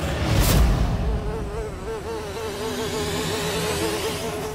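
A firefly buzzes around in a TV drama scene: a steady, close insect drone with a wavering pitch, preceded by a brief louder burst of noise near the start, with no talking.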